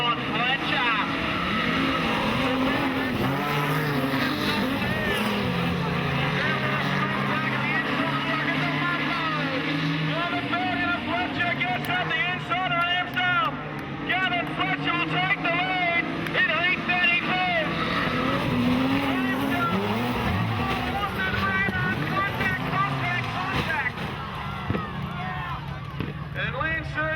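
Modified production race cars at Maryborough Speedway, a night dirt-track meeting, drone and rumble steadily through the restart, engines loud and continuous with a commentator talking over them throughout.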